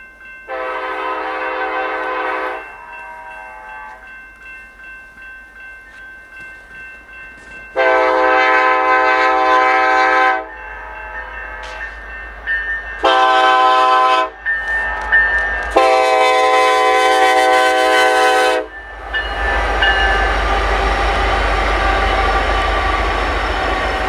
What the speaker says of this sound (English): a Blue Island Autorack train slithers south onto the Brookfield subdivision